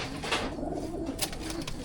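A racing pigeon coos softly in low, rounded notes amid steady background noise, with no talking.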